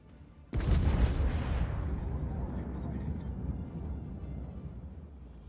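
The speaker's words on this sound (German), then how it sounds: "Sehr schön, dass meine Schüsse jetzt parallel rausgegangen sind" Battleship guns fire in World of Warships, the USS Colorado's naval cannons letting off a single loud booming salvo that rolls out into a long rumbling decay lasting several seconds.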